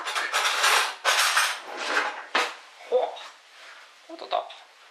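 A metal knife and fork are picked up and handled after cooking chicken tomato pasta, giving several sharp clattering bursts and scrapes, loud and close, that fade into lighter clinks.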